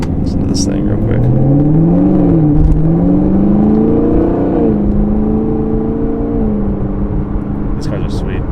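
A 2019 Camaro 2SS V8 engine revs up and settles, its pitch rising and falling across several blips, loud and close with a steady rumble underneath.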